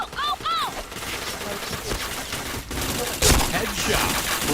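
Gunfire from a shooting video game: a burst of rapid shots with one heavy blast, mixed with game effects and a short chime near the start, under a busy, dense mix.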